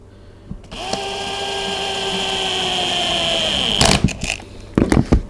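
A power driver whines steadily for about three seconds as screws go into a handmade cabin door on a Nauticus 27 ft cruiser boat, then stops, followed by a few sharp knocks and clatters.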